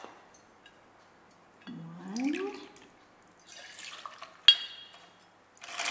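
Vodka poured into a cocktail shaker full of ice makes a short gurgling splash and liquid glug, followed by faint clinks and taps of glass and ice, quiet and close-up.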